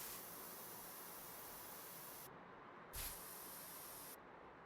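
Steady hiss of a spray gun coating a car body with paint in Car Dealer Simulator, running continuously, cutting out briefly, then resuming with a short louder burst before stopping.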